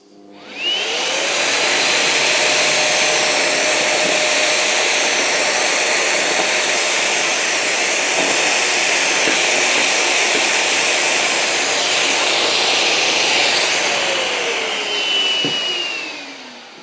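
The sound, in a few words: drilling with dust extraction vacuum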